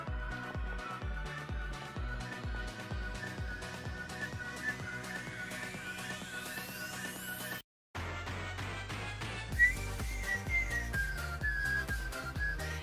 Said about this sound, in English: Ah, whistling again.